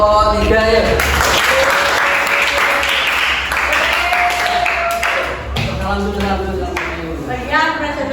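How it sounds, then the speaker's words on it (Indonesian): An audience gives applause for group 3 after their presentation at a teacher-training class session, steady clapping filling the room for several seconds, with a voice talking over the clapping toward the end. "beri aplaus untuk kelompok 3 ya"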